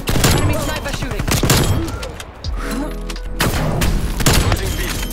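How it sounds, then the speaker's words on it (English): Gunfire from an enemy sniper in Call of Duty Cold War, heavy sharp shots and booms packed densely across the moment, loud and close, with a brief lull midway before the firing resumes. "Enemy sniper shooting."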